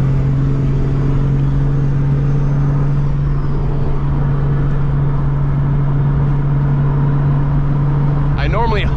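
A Nissan 300ZX project car with a swapped 2JZ-GTE engine cruises along, its loud steady low engine drone and road rumble filling the cabin, with a brief rising tone near the end.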